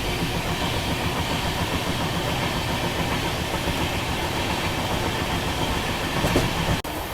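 The Pune–Mumbai Udyan Express pulls out of Khed station, heard from inside a first class AC carriage as a steady, loud rolling rumble with a sharp click near the end.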